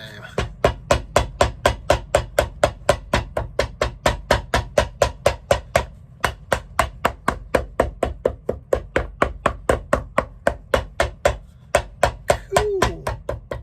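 Steady, rapid hammer strikes ring out close by, dozens of sharp evenly spaced blows with only a couple of brief pauses.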